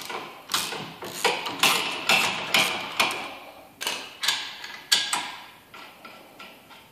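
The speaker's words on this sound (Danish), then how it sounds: "Vi skal have møtrikken helt af den." Old nut being loosened and removed from the rear bolt of a vehicle tow bar, giving a close series of sharp metallic clicks and thuds in an irregular rhythm over several seconds, with no talk.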